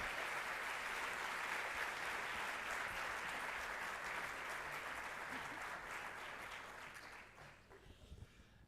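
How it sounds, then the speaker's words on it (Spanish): Sustained applause from a large crowd at an energy awards event in Vigo, Spain, welcoming the mayor, steady and loud, then thinning out and fading near the end. "vamos a recibirlo como se merece, con un caluroso aplauso al excelentísimo alcalde de Vigo, don Abel C"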